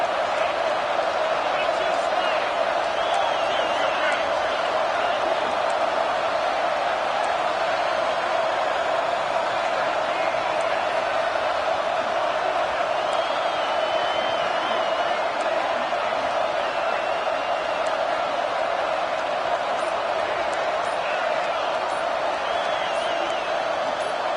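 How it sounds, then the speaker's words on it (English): Dense, steady roar of a packed stadium crowd at a Florida Gators football game, loud and continuous with no letup, swelling slightly with scattered whoops and cheers throughout. "with this place rocking, the crowd forces a false start"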